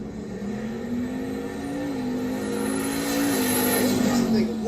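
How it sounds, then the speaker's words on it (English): A 1964 Chevy Malibu drag car at Texas Motorplex, its engine holding a steady, sustained roar that builds slightly louder over a few seconds, heard from a distance with continuous crowd and track ambience. "Left lane is Dane Thompson, the 64 Chevy Malibu."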